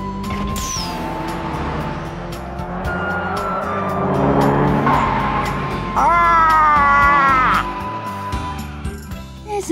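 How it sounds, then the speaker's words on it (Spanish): A turbocharged car engine, a Levin-type racer from Initial D, revs and accelerates loudly with rising whines and tire squeal, building to a sustained high-pitched pull near the end; no speech over it. "Lo que esperaba de un coche con turbo."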